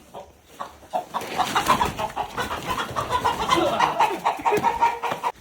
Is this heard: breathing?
no